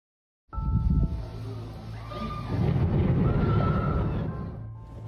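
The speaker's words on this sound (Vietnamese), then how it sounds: "hiện tượng sấm tuyết vừa có tuyết rơi vừa có sấm sét" Thundersnow rumbles through a snowstorm in Henan, a deep, sustained low roll that starts suddenly and swells in the middle, loud and continuous for several seconds.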